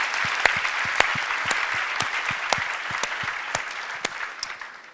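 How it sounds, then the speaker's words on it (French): A church congregation applauds during a bilingual New Year service. Steady, full clapping from a crowd fills the room at moderate loudness, with some sharper individual claps poking through and a slight fade toward the end. "We give you our applause."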